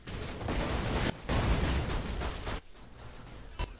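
A grenade blast in the video game Borderlands 2, a loud sustained burst of explosive noise with crackling debris that cuts off abruptly, followed by quieter game ambience and a short pop near the end.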